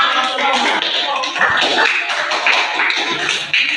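Students in a classroom applaud after the final group presentation, a close, steady patter of many hands clapping with a few thumps, with some voices mixed in.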